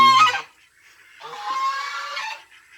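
Fighting geese honk nearby, first a short loud blast, then after a brief gap a longer, harsh, raspy honk.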